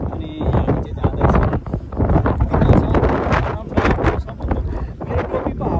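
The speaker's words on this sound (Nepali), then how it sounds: "मेरो टोपी हावाले उडाउला जस्तो छ" Strong wind buffets the microphone on a cruise ship deck sailing from Denmark to Norway, with continuous loud gusting rumble and a voice speaking through it.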